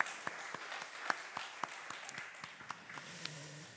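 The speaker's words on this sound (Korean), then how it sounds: "우리 하나님 앞에 영광의 박수 올려드립시다." A church congregation at a Sunday service offers faint, scattered applause, with a few sharper individual claps standing out from a soft background of hands.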